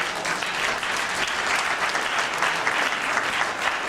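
An audience claps together in a hall during a talk, a sustained even wash of applause that is loud and continuous throughout without speech.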